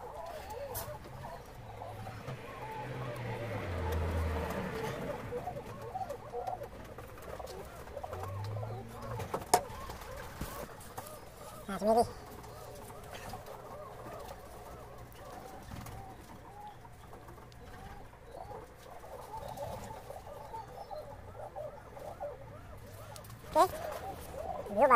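Racing pigeons coo softly at the loft in repeated low throaty calls, with faint background sounds, occasional sharp knocks and clicks, and a person speaking quietly at times.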